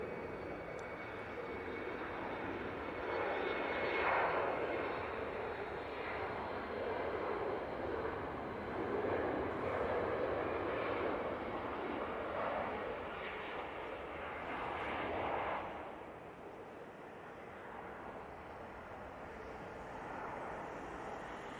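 An Air France Embraer jet on its takeoff roll at Manchester Airport, a steady broad engine roar building and swelling over about twenty seconds before easing slightly, heard from a distance with wind in the background.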